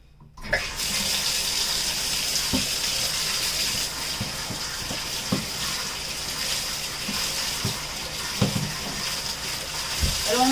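A tap runs steadily into a bathroom sink or shower while items are rinsed during cleaning, a continuous close gush of water punctuated by occasional knocks and clatters of objects being handled.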